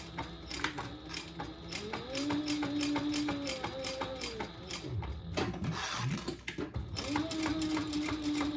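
A sewing machine stitches back over a previous line of stitching, its needle mechanism chattering in a fast, steady mechanical rhythm close by, with a short pause partway through.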